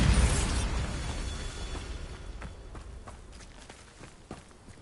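A Bombarda explosion spell cast in Hogwarts Legacy detonates with a loud burst at the start, then debris and rumbling fade away, followed by scattered crunchy footstep-like impacts.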